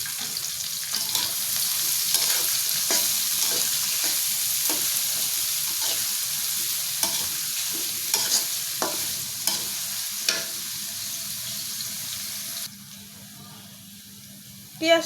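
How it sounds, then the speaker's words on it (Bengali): Chopped onion frying in a pan gives a steady, close hiss and sizzle, punctuated by repeated clicks and scrapes of stirring, then quietens near the end before a final knock. "পেঁয়াজটা আমি খুব ভালো করে ভেজে নিচ্ছি।"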